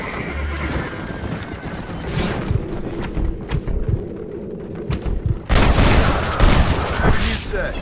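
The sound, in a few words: gunshots in shooting competition in Red Dead Redemption video game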